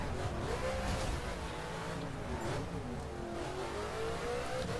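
A car engine hums and revs steadily while driving around Chicago city streets in The Crew video game, a continuous close drone with rising and falling pitch as it shifts and accelerates.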